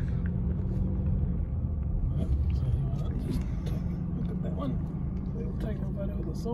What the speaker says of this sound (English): And there's a train, by the way, guys. Freight train.